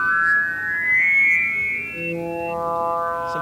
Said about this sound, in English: just sweep through the first 64 waveforms very slowly, and you'll hear how smooth the transitions are